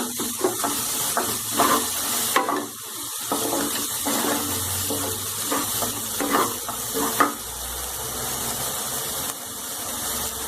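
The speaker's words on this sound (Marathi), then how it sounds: "सर्व मसाला एकत्रित छान परतून घ्यायचं" A spoon scrapes and stirs through a sizzling spice mixture for a radish-pod vegetable dish in a pan, with repeated scraping strokes over a steady background hiss.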